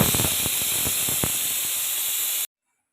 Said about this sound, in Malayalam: നമ്മുടെ കുക്കറിൽ കറി റെഡി ആയിക്കൊണ്ടിരിക്കുന്നു